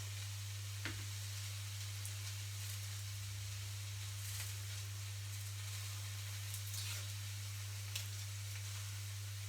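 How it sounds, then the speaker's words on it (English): A steady, soft sizzle of onion browning in a frying pan, with a few faint crackles and a low electrical hum underneath. "the onion in the frying pan just to brown it a little bit"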